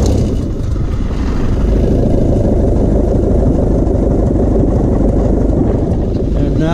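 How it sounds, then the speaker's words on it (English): A small engine starts and runs with a loud, steady, rough drone that holds throughout, close up and uninterrupted. "now I'm going to start the motor"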